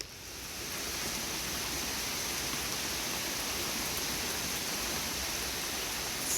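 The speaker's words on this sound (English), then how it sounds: "This is a lot of rain in a short time." Heavy rain pours steadily onto a garden in the fall, a dense continuous hiss that rises in the first half second and then holds loud and even throughout, with no voices.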